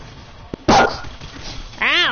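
A dog companion barking in the video game Borderlands 3, short yips and barks among game sound effects, with a loud bark near the start and another toward the end.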